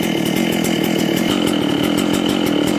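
A chainsaw cuts through a log, its engine running loud and steady at high revs with a rapid rhythmic chatter throughout.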